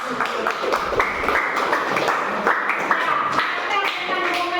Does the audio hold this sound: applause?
yes